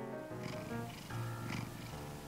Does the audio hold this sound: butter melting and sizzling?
no